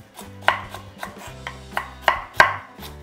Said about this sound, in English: You can cut them in quite big chunks because you're going to mash them.